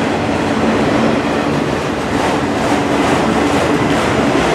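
A Norfolk Southern autorack freight train rolling past in Spartanburg, South Carolina, its cars producing a loud, continuous rumble with rhythmic wheel clatter close by.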